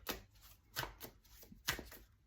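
New, slippery tarot cards being handled and drawn, several quick crisp shuffling riffles and flicks close by at an irregular rhythm, fairly quiet.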